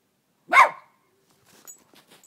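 A single sharp dog bark rings out, followed by faint scuffling and quiet rustling.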